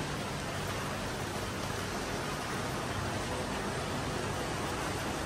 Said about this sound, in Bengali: এইবার না বৃষ্টি একেবারে অতিরিক্ত বাড়াবাড়ি হচ্ছে, থামার কোনো লক্ষণই নাই